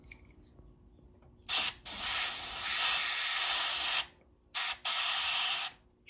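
Canned test smoke sprays into a smoke detector in two long, loud hissing bursts separated by short quiet gaps, close and otherwise silent.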